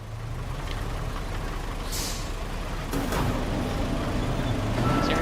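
A heavy truck labors up a slight incline in the Roadcraft video game, its engine droning steadily with a brief sharp air-brake hiss and faint mechanical knocks.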